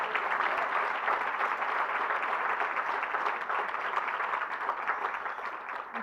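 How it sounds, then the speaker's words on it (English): Steady, continuous applause from a large audience at a memorial breakfast fills the room at moderate distance, an even sustained clapping without pauses. "Athene Wilson, round of applause again for her."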